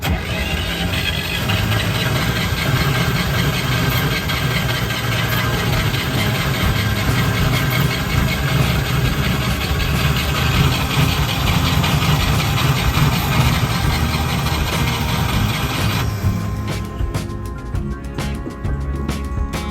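A boat's engine runs on choke after a restart, giving a loud, continuous mid-pitched drone that holds steady for a long stretch before shifting toward the end.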